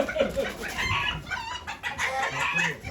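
Chickens cluck and squawk steadily at a poultry auction in Ankara, a dense close flock sound with overlapping calls and no clear pauses.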